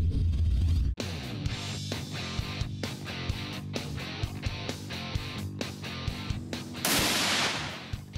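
Rifle fire on a blacktail deer hunt in California: one booming report opens, then a run of sharp cracks and clicks from shooting and handling follows, with a loud burst near the end.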